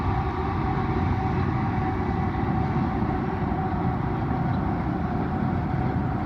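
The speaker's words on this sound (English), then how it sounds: "CP train going over." A CP Rail freight train rumbles steadily across the Pic River bridge at Neys Provincial Park, a continuous low rolling drone with a faint tonal hum, heard from a distance without pause.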